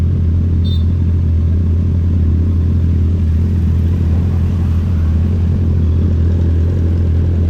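A motorcycle rumbles loudly and close by on a road loop in Mabini, Batangas, a steady heavy low engine drone with wind buffeting that holds for the whole stretch without talk.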